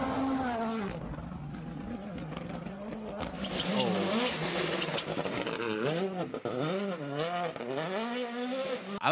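A rally car at speed on a loose surface, its engine rising and falling in repeated revving sweeps with crunching tyre noise, while people talk over it throughout.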